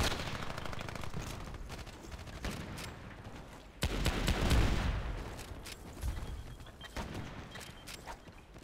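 Semi-automatic SKS rifle fire in the Battlefield Play4Free online shooter, with sharp gunshots over a dense, continuous wash of in-game battle noise and a loud boom near the middle.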